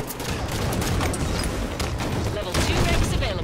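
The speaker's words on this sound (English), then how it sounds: "Many grenades." Grenade explosions and gunfire in the video game Halo 5, a dense, continuous barrage of close blasts and rapid shots with bursts of crackle, loud and busy throughout with game voices mixed in.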